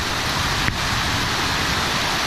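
Rain pouring during a thunderstorm in French Guiana, a steady, dense wash of noise close by, with one brief sharp tap partway through.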